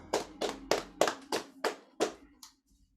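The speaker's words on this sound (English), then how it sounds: "Let's clap it up for that." A small group at a virtual family concert gives a brief round of about seven sharp, evenly spaced claps or taps that stop abruptly, followed by near silence.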